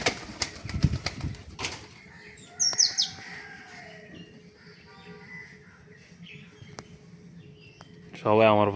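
Pigeons flapping their wings up close, a loud flurry of wingbeats at the start, then softer rustling with scattered chirps and a brief burst of cooing near the end.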